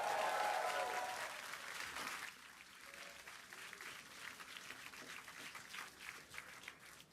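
Spectators cheer and applaud ahead of a SpaceX Starship Flight 5 launch, with a loud, dense swell in the opening two seconds that then settles into steady clapping and crowd noise.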